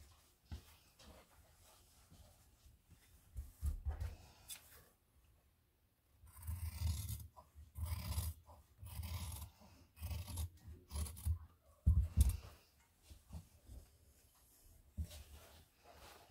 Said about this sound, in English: I'm going to cut that top into a curve.